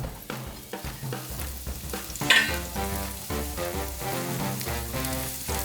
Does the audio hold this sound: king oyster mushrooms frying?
yes